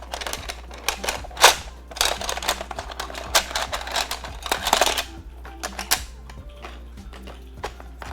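Plastic keyboard space bar keycaps, some of them GMK, clack and rattle as a hand rummages through a small stash, giving irregular close clicks and clatters with a few sharper knocks.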